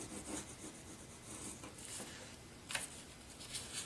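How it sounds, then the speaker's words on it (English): Bone folder rubbed along folded paper while making mini envelopes from scraps, a soft continuous scraping swish with faint strokes, close and quiet with no talking. "I'm going to bone fold this part here."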